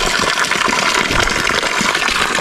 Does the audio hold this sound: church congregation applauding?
no